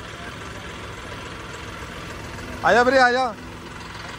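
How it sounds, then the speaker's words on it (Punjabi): A John Deere 5310 tractor idles quietly as a low, steady hum, with a brief shout from a man partway through. "ਪਤਾ ਹੀ ਨਹੀਂ ਲੱਗਦਾ ਵੀ ਟਰੈਕਟਰ ਸਟਾਰਟ ਹੋਇਆ"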